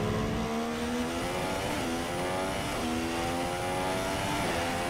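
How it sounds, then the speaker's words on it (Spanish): A race car engine in the F1 2016 video game at the Malaysian Grand Prix revs high and constantly, rising and dropping through gear changes. It is loud and continuous, with no voices. "Este coche suena a carraca,"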